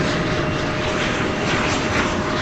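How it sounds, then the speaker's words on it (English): An American Airlines Boeing 737-800 jet arriving at DFW Airport, a loud, steady broadband engine roar filling the whole stretch without pause, close and alone with no voices. "As you listen to the arrival of American Flight 2335 from Albuquerque, a 737-800."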